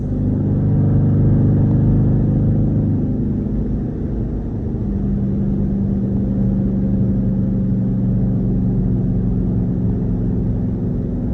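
A deep, rumbling straight-piped Jeep engine drones steadily throughout, heard from inside the vehicle, with a low growl that shifts slightly in pitch.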